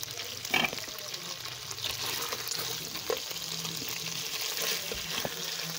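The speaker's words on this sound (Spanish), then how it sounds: "aquí ya se está friendo nuestra carnita" Pork pieces fry gently in a pan over low heat with a steady soft sizzle, broken by a few faint clinks and scrapes of stirring close by.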